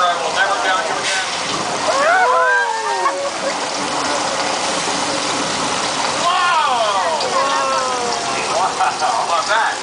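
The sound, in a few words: rushing water flooding in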